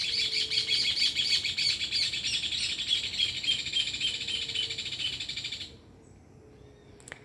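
Birds chirp and tweet in a dense, continuous chorus of high repeated calls, fairly loud and close, with no talking, before the calls cut off abruptly near the end, leaving near-silence.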